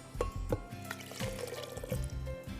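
Water pours into a blender holding lentils, making faint, close splashing and trickling with a few brief bursts as the liquid hits the jar.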